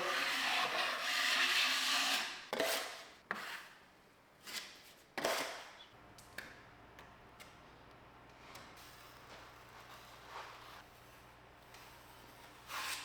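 A 14-inch putty knife drags joint compound across drywall, giving a steady broadband scrape for about two seconds, then a series of shorter strokes and scuffs that thin out into quiet room noise.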